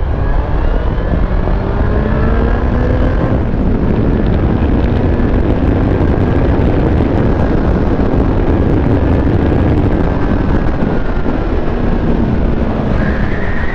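Motorcycle exhaust roaring under load during an overtake, a sustained loud engine note with rising and falling pitch, mixed with heavy wind rush and no talking.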